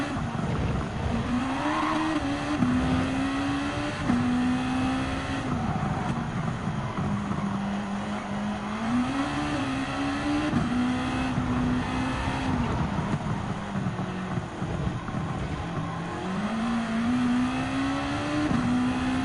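Race car engine in Gran Turismo 7 at Fuji Speedway, a steady close engine drone that rises and falls through repeated gear shifts and revs for the whole stretch, with no talk.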